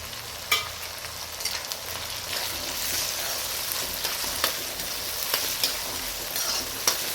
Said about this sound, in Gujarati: તો આપણે નાખીશું ઝીણા કાપેલા ટામેટાં.